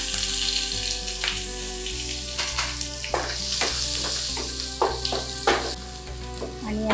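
Onion and curry leaves fry in a pan of hot oil with a loud, continuous sizzle, broken by scraping stirs and crackling pops, close up, with a steady low hum underneath.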